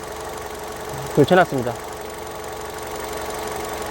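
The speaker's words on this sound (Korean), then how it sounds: "시동 걸었습니다. 엔진 소리를 한번 들어보세요." A 2009 Hyundai Avante Hybrid LPI with 116,000 km sits idling, giving a quiet, steady low hum throughout while someone speaks briefly over it.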